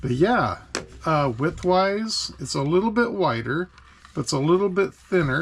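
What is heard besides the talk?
None of the usual background noises is heard.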